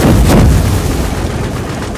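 A heavy boom of gunfire in the video game Dust 514 opens loud and then decays into a rumbling tail.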